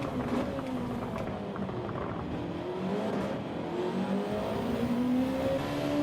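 Race cars in a close Gran Turismo 7 race, engines droning and rising in pitch as they accelerate together, with a steady pack roar and faint tire noise throughout.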